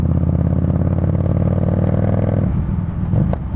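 A 2018 Harley-Davidson Street Rod 750 motorcycle cruises steadily in sixth gear, its engine a loud, close, continuous low rumble that holds even for a few seconds before easing slightly near the end.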